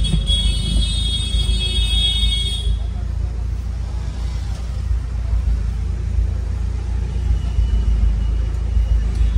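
A crane tow truck pulls up to tow away an accident-damaged Ertiga car, a steady low engine rumble with traffic noise throughout and a brief high tonal whine in the first few seconds.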